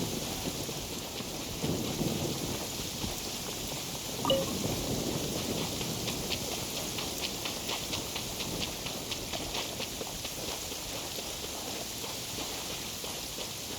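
Steady downpour of rain with a low thunder rumble in the Genshin Impact video game, a constant hissing wash of rain with a brief sharper accent near the middle, no talk.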